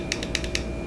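Three quick, sharp clicks from the fire button of a Geekvape Aegis Tech vape mod, pressed close-up in an even rhythm over a faint background hiss.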